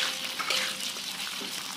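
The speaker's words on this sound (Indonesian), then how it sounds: "Setelah minyaknya panas, kita tumis sebentar ya. Kita goreng sebentar baksonya." Bakso meatballs frying in hot oil in a wok, giving a steady close hiss and soft sizzle throughout with no talking.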